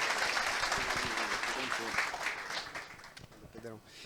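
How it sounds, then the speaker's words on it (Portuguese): Audience applause at a live televised real-estate economics event for a speaker, a sustained ripple of clapping mixed with voices talking over it, moderately quiet throughout. "Uma salva de palmas aí para o nosso conterrâneo, Thiago Pessotti."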